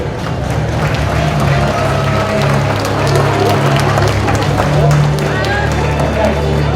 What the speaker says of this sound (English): So give them all a round of applause, please